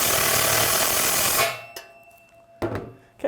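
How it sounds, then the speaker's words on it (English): A power driver drives a bolt into a robot chassis with a loud, steady whir for about a second and a half, then stops, followed by a few short clicks and clunks of handling. "You do want to be careful with the power tools."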